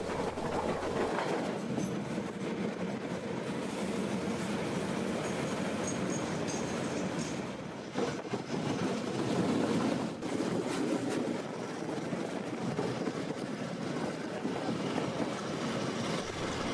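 A train rumbles steadily along the rails, a continuous rolling roar with faint rhythmic clatter, close by and sustained throughout, on a coastal peninsula line near Dunedin, New Zealand.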